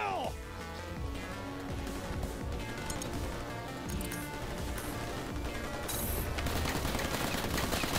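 Gunfire in Tales from the Borderlands fills a busy game scene, rapid shots and bursts mixed under music and speech throughout, with a sharper crash near the end.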